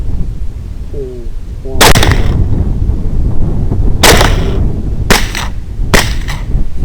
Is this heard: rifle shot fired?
yes